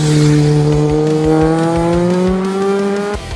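A Kawasaki GPZ900R, the 1980s sport motorcycle, revs loud and close, its engine note sweeping upward in bright, rising harmonics before easing off near the end.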